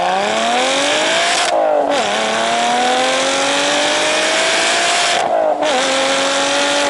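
A 2019 Lotus Evora with a supercharged 3.5-liter Toyota V6 revving hard through the gears, loud, rising engine pitch with two brief dips at gear changes, steady and close.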